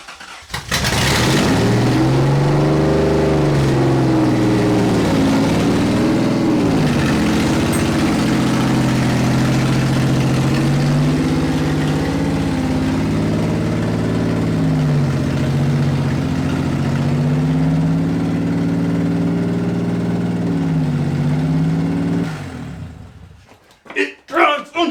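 A 3rd gen Toyota 4Runner with a manual clutch idles steadily and loud for most of the stretch, its low engine drone wavering slightly, then cuts off near the end; speech-like tones and voices blend with the running engine.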